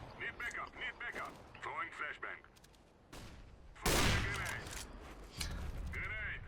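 Gunfire in Counter-Strike: Global Offensive, a sharp loud burst partway through, with a second burst near the end, between stretches of speech.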